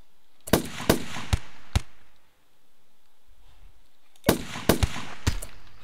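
Gunshots ring out in a RimWorld firefight: two bursts of four sharp, loud cracks, each in a quick uneven volley, separated by a quiet gap with a faint low rumble.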